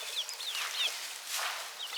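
Young chickens that look like roosters, clucking and peeping in a run of short high chirps and squawks, close and clear, with no talk.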